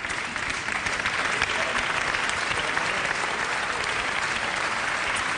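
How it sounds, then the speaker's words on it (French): A large audience at a national awards ceremony, the Talents des Cités Grand Prix event, claps steadily and loudly for the two winners, a dense continuous wash of hands with no talk over it. "On les applaudit très fort évidemment, les 2 lauréates du Grand Prix Talent des Cités 2013."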